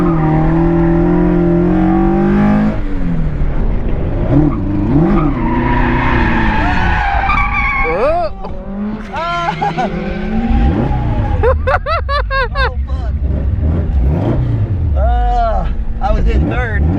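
A Toyota AE86 race car on a track day, tires squealing and engine droning loudly throughout, with people talking over the noise from inside the car.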